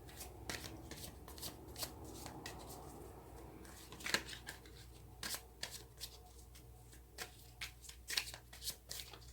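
Tarot cards being shuffled by hand, a run of crisp riffles and flicks in uneven bursts, close and fairly quiet over a low steady background hum, with no talking.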